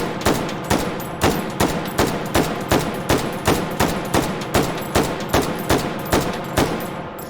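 An AR-10 rifle with a 20-round waffle magazine and carry handle fires about twenty loud, sharp shots in a steady, rapid rhythm, with no talking.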